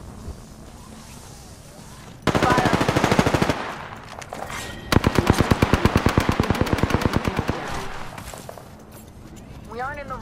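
Automatic gunfire in the video game Apex Legends: two loud, rapid bursts of fire, one short and one longer, with clipped game voice lines and some talk over a quieter background.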